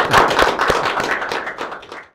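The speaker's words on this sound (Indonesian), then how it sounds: "Tepuk tangan dulu untuk Pendeta Oloan Nenggolan" Short burst of applause from a podcast studio audience at a church district event in Jakarta, quick close handclaps that fade out over about two seconds, with no talking.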